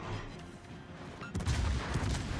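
Tier 10 German cruiser Hindenburg firing its guns in World of Warships, a muffled low booming volley that swells sharply about halfway through and rumbles on heavily to the end.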